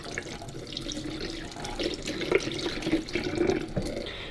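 A Bosch Tassimo piercing unit is rinsed under a running kitchen tap, with a steady close splash of water broken by shifting gurgles as the part is moved in the stream.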